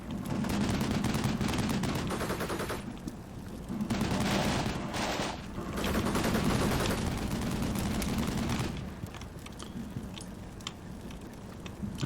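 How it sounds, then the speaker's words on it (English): Dense, continuous suppressing gunfire in the tactical war game Combat Mission Shock Force 2, a rolling mix of rapid automatic bursts and overlapping shots that stays loud throughout, easing slightly near the end. "Now we are putting suppressing fire down there."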